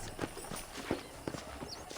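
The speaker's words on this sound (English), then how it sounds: "let's see if you can still ride a horse" Horse hooves clip-clop at a walking pace in the Red Dead Redemption video game, a run of soft, fairly faint irregular thuds with no talk.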